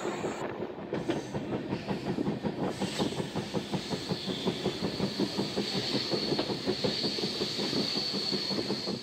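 A passenger train runs along the rails toward Lonavala, steady rhythmic clickety-clack of wheels over rail joints heard from on board, with a continuous rumble and faint hiss throughout.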